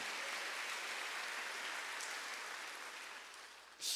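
Sustained applause from a church congregation at a Wednesday worship service, a dense steady clatter of clapping that slowly thins and fades near the end.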